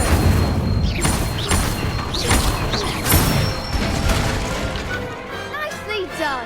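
Repeated Incendio fire spell casts in Hogwarts Legacy, several loud whooshing bursts with impact booms and crackle in a steady rhythm, spoken incantations mixed in.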